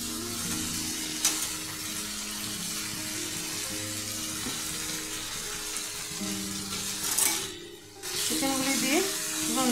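Chicken pieces frying in a pan with garam masala and black pepper powder, a continuous hiss and sizzle with a brief louder burst and dip near the end, under faint background music.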